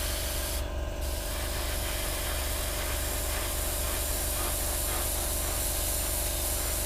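Paint spraying onto a Hasegawa 1/48 Harrier GR7 model kit: one short, bright hiss early on, then a steady droning hum and broad background noise that continue throughout.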